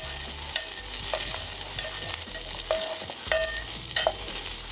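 Green onions sizzle in a hot pan with a constant frying crackle, while a utensil scrapes and stirs in repeated strokes, close and loud with no talking.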